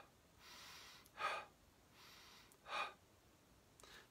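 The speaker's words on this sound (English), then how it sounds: "take a few really big, exaggerated deep breaths in" Two exaggerated, deep meditation breaths in a quiet room. Each slow, soft intake of air swells into a stronger, sharper rush, and the two breaths come in an even rhythm.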